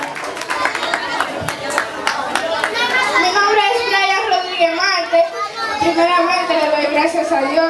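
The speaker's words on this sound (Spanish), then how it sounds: "¡aplausos!" Scattered clapping rises among a lively crowd of chattering, shouting children at a Three Kings Day charity gathering run by Fundación Acción Juvenil, with voices dominating throughout.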